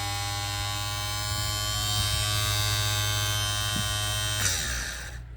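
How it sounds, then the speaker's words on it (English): A rebuilt power window motor from a 1976 Cadillac Eldorado runs on the bench, a loud steady electric buzz with a harmonic whine that holds for several seconds and then cuts off abruptly. "I'll go ahead and apply power, and we'll be looking for the rotation of the worm gear inside going clockwise."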